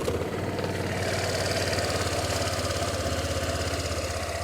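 A Honda PCX150 CVT scooter engine idles steadily, a continuous close mid-pitched putter with even rapid pulsing and no other sounds.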